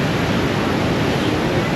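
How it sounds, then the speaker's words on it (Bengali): Dense, loud, unbroken roar of water rushing through the Farakka Barrage, heard close up as a steady wash with no voices. "কি আওয়াজ এখানে, জলের যে আওয়াজ শুনলেই ভয় লাগে।"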